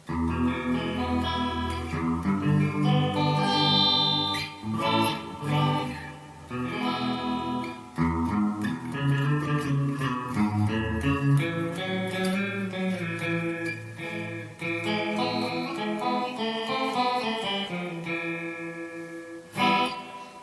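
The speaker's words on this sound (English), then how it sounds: "Now let's try the detune setting. And this is a cool setting because it's like a chorus." Electric guitar through a Donner digital reverb pedal on its detune setting, a shimmering, doubled chorus-like effect, plays chords and melodic runs washed with reverb, moderately loud and uninterrupted.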